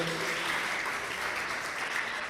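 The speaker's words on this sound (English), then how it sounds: "A big round of applause for them" A crowd at a youth empowerment summit applauds steadily, a dense even patter of many hands clapping throughout.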